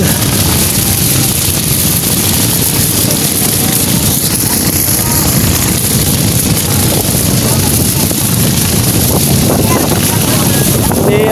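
A steady, loud engine drone with heavy wind buffeting from a motorboat running out on open water during a fiesta sea parade in Barangay Diatagon, constant throughout with no break.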